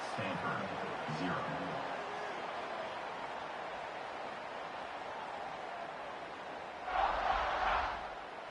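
A stadium crowd in a college football video game gives off a steady, broad buzz that swells louder near the end, while a voice speaks faintly over it.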